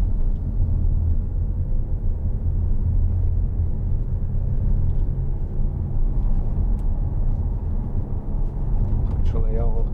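A 2015 Audi RS4 Avant 4.2 TFSI engine drones in a steady low rumble while driving on the road, continuous throughout with a person talking over it.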